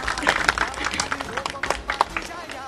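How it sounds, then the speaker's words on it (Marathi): Audience at a Ganesh-themed cultural program in Goregaon breaks into short bursts of clapping, fairly close, mixed with a voice speaking over it. "वा टाळ्या."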